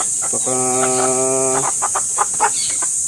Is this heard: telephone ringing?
no